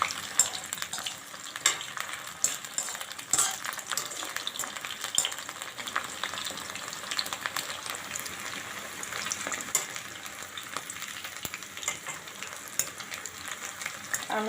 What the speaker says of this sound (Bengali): এগুলো কিন্তু মিডিয়াম আঁচে ভেজে নিতে হবে, হাই হিটে দিলে কিন্তু পুড়ে যাবে।